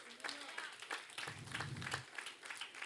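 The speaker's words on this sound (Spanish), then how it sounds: "Dele un aplauso al Señor" Scattered applause from a church congregation, a few distinct claps standing out over a low murmur, with a voice speaking briefly in the middle.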